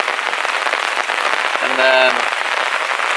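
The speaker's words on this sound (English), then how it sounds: "it's going to stop raining at 8" Broadband steady rain patters on a tarp at a kayak campsite on the Potomac River, close and continuous, with someone talking briefly over it.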